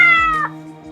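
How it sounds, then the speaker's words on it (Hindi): A cat gives a single close meow that slides downward and fades, loud and alone with no talking. "Cats eat mouse."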